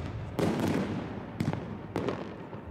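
Fireworks bursting on New Year's Eve over Národní třída in Františkovy Lázně, with three sharp booming bursts a second or so apart over a continuous crackling, rumbling backdrop of distant pyrotechnics.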